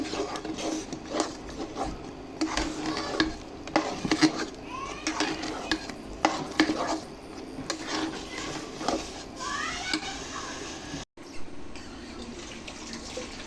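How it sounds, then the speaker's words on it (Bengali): Taro stolon curry with green chillies, a village-style dish, stirred in a pot: repeated close scraping and clinking of a spoon against the metal with wet sloshing, in uneven bursts throughout. "অবশ্যই আপনি একটু নাড়াচাড়ার মধ্যে রাখতে হবে, নিচে লেগে যাওয়ার সম্ভাবনা থাকবে"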